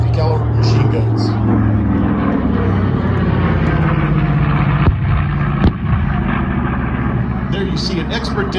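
A B-25 bomber makes a low pass at the Bluebonnet Airshow, its piston engines droning loudly and steadily throughout while an announcer talks over the roar.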